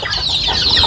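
A chicken clucks nearby in quick, choppy bursts, fairly loud and with no talking over it.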